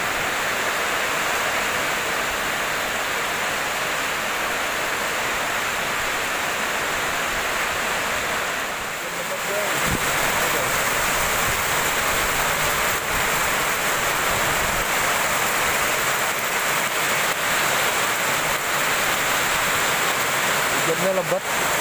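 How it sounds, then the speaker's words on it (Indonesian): Heavy rain roars in a dense, steady wash of noise for the whole stretch, dipping briefly partway through before returning just as strong. "Aduh hujan lebat bro."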